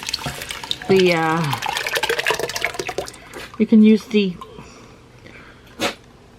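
Water splashes and pours into a cooking pot of chicken broth for chicken and dumplings, a steady rushing stream lasting a couple of seconds, with a voice speaking over parts of it.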